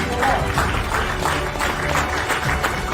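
Parents in a workshop audience applaud debaters with a steady, dense round of clapping that stays loud and even throughout, a busy crowd wash with no break.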